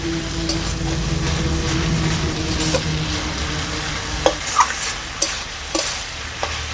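Banana flower stir-fried with spices in a pan: a continuous close sizzle and scraping stir, joined later by several sharp knocks of the spatula against the pan.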